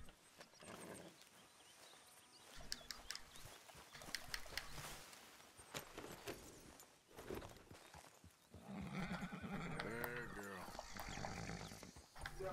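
A horse in Red Dead Redemption II whinnies and snorts amid clip-clopping hooves and game ambience, with someone talking over parts of it.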